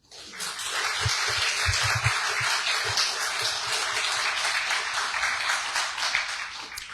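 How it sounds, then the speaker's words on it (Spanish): A conference audience at a lecture on the battles of Junín and Ayacucho gives a presenter a warm welcome with dense, continuous applause that swells quickly and holds at a steady level throughout. "Lo recibimos con muchas palmas."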